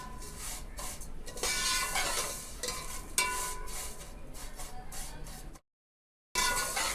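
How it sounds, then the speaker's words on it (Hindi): Vermicelli roasting in a pan over low heat while being stirred, giving a steady soft sizzle with scraping and clinking of the spoon against the metal, broken by a brief silent gap. "अब हम 2 से 3 मिनट के लिए हल्की आंच पर इसको भुनाई करेंगे"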